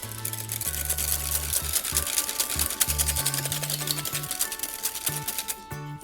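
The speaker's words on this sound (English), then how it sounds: "you want to whisk it to soft peaks" Whipping cream mixed with coconut cream and sweetened with icing sugar is whisked toward soft peaks, giving a continuous fast rattling whir whose pitch shifts as the whisk speed changes, close and fairly loud, with no speech.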